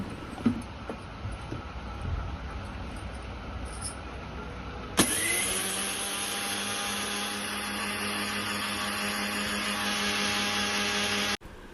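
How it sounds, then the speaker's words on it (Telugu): A small kitchen mixer grinder grinding fenugreek seeds whirs up suddenly after quiet background, running at a loud steady high-pitched whine, then cuts off abruptly. "ఇప్పుడైతే మిక్సీ వేస్తున్నాము అది కొంచెం ఫైన్ పౌడర్ అయ్యేంత వరకు మిక్సీ వేసుకోవాలి"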